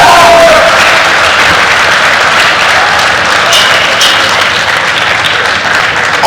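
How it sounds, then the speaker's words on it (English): A large audience applauds the graduating class at a convocation ceremony, sustained loud clapping filling the hall without pause, a dense wash of hands from a standing crowd. "let us all join in applauding the graduating class of"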